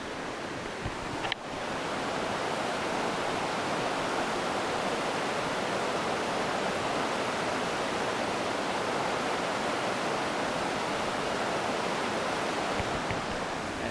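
A stream rushes steadily over rocks, a dense broadband wash of flowing water that holds constant throughout, preceded by a short faint knock at the start.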